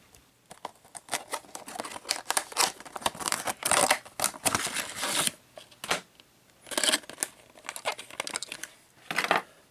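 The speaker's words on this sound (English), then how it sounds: "we're going to get this one out of the package next" Plastic packaging crinkles and tears as a Greenlight die-cast Volkswagen panel van is unpacked, with bursts of close crackling and rustling separated by short pauses, fairly quiet.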